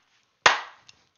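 A single sharp hand clap rings out during an acting class warm-up exercise, loud and close with a short decaying tail, followed by a faint small tap.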